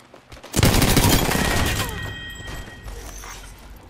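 A burst of automatic gunfire erupts in the Apex Legends video game, a loud rapid volley that tails off with mechanical clicks and faint ringing.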